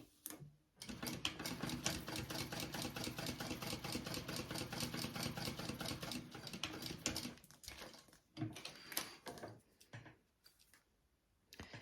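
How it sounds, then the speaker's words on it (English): A sewing machine runs a long continuous burst of rapid needle chatter while top-stitching folded fabric pieces, then stops and restarts in a few short bursts near the end, close and fairly quiet. "we're gonna top stitch"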